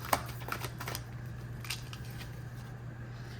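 Tarot cards being shuffled by hand produce a few quick papery riffles and soft snaps near the start and again partway through, set against a faint steady low hum.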